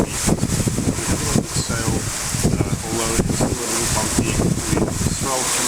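Wind at about 20 knots and a three-metre swell wash around a sailboat at sea between New Zealand and Fiji, a loud continuous roar with surging rushes of water and some rigging rattles.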